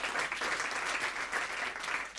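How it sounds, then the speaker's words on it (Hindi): Brisk, loud applause from the audience at the Filmfare OTT Awards 2024, continuous, with rapid clapping throughout and no speech over it. "तो अनन्या जी के लिए एक जोरदार तालियां हो जाए"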